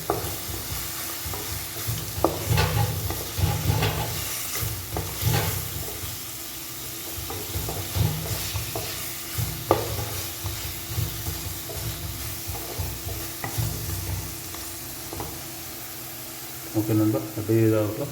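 Chicken cooking in oil in a kadai, restaurant style: a continuous close sizzle with bursts of stirring and spatula scraping against the pan, low rumbling undertones and a brief louder clatter near the end.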